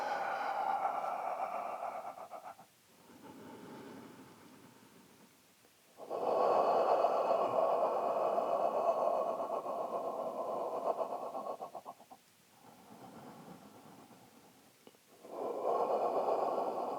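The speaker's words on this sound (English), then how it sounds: "We'll do a couple more breaths in this position." Slow, deep breaths during a hip stretch for hip range of motion, drawn in long, steady, airy waves with short pauses between them. The breathing is close and moderately loud, with no talking.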